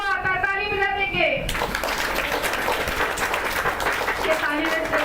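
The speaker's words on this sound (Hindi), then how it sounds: "ये ताली बजा रहे हैं" A church congregation claps together on Palm Sunday, a dense, continuous burst of many hands that cuts in after a few sung or spoken notes and carries on with voices mixed in.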